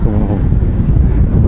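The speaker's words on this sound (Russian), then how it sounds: "испробую, как работает микрофон на ветру. Ветер сейчас дует" Loud, continuous rumbling wind buffets the microphone on a beach in Anapa, Russia, a dense low roar throughout with no clear voice.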